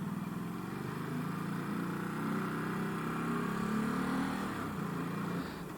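A Ducati Supersport 950S motorcycle engine drones steadily through a U-turn, a mid-level rumble that swells slightly and then eases off near the end, with no talking.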